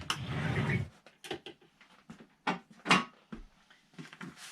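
The bottom drawer of a wooden armoire is slid open, giving a series of short scrapes, knocks and rattles at close range after a brief burst of noise.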